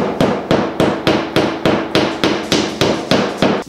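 Nylon drywall anchors being hammered into a wall during a shower renovation: about eleven sharp, evenly spaced hammer blows at a steady quick rhythm, close and loud with no talking.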